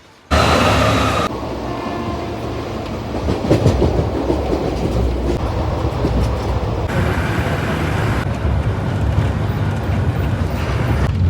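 Loud, close rumble of a train at Pattambi railway station, a continuous heavy rolling roar with rattling and clanking of wagons, no talking.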